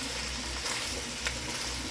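Mixed vegetables sizzle loudly in a frying pan while being stirred, a dense continuous hiss with a couple of soft scrapes, brief and close.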